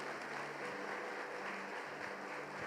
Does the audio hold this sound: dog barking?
no